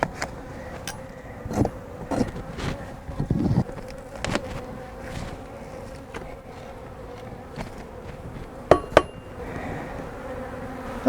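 Bees buzz steadily inside a wall cavity during a hive extraction in Denver, Colorado, a continuous close drone broken by scattered knocks and scraping from the removal work.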